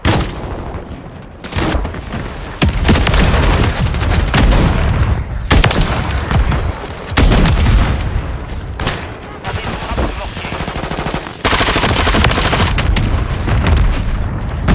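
Call of Duty MW3 gunfight gunfire rings out loud and dense, with bursts of rapid shots and booming blasts in long stretches that are broken by brief lulls.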